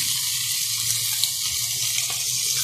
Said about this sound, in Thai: ใส่น้ำปลา